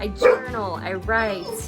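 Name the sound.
dog barking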